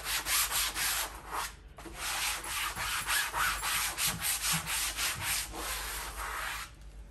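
Sandpaper rubbing back and forth over chalk-painted fabric, a steady run of close, rasping strokes with a short pause near the start.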